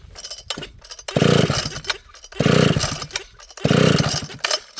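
Chainsaw pull-started on full choke with fast idle and the decompression button out: three loud, close rasping pulls of the starter cord, each a burst of cranking engine noise with short pauses between, and no firing.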